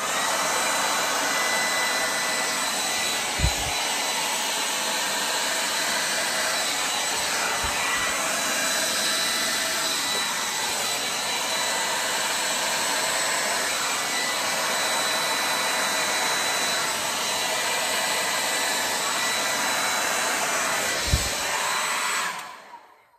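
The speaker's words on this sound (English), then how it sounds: "As I'm blowing, I'm noticing my nozzle on my hair dryer is starting to fall off." A hair dryer with a loose nozzle blows steadily and loudly for over twenty seconds, a constant broadband rush with a couple of faint knocks, cutting off abruptly at the end.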